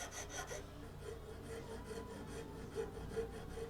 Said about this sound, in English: It's the square file in the StewMac kit that I got of their little woodworking files.